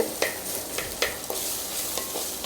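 Onions sautéing in a pan, a continuous close sizzle punctuated by a few regular scraping strokes of a spoon stirring, moderately loud with no voices.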